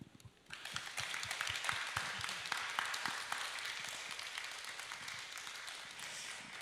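An audience at a Seoul international writers' festival talk breaks into warm, sustained applause, many hands clapping densely and evenly from just after the start to the end, moderately distant in a hall.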